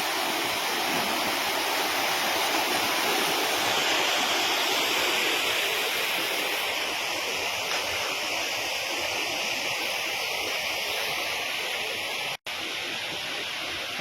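The Anayadikuthu waterfall at Thommankuthu, its constant roaring rush filling the clip, broad and loud without pause, with one brief dropout near the end.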